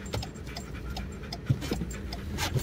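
A dog pants quickly and steadily close by, with a rhythmic huffing that carries on throughout over faint background hum and no talking.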